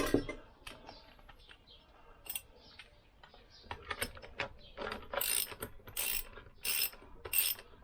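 A ratchet tightens a nut onto a washer during a Lambretta scooter engine rebuild, giving bursts of quick clicking strokes between quieter pauses, close by and alone.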